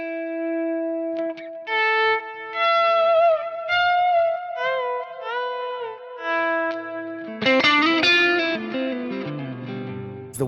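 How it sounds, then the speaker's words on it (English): Electric guitar played through a Keeley Halo dual echo pedal set to dotted-eighth repeats, clean sustained melodic notes with bends trailing into rhythmic echoes, ending in a denser strummed passage. "the echo, that's that dotted eighth quarter note kind of thing."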